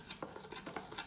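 Ramadan pide bread dough being mixed in a bowl, a brief burst of soft, rhythmic scraping and stirring strokes, close and quiet.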